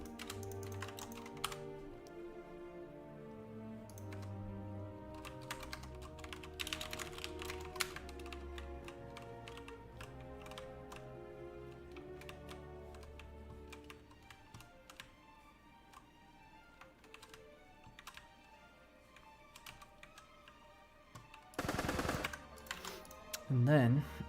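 Computer keyboard keys clack in quick, uneven bursts as they steer movement in a retro online first-person shooter built on a home-made C++ engine, over soft tonal background sound.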